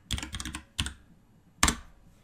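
Computer keyboard keys clatter in a quick burst of typing, then a single clack and a final stronger pair of strokes, close and crisp, while a spreadsheet cell is edited.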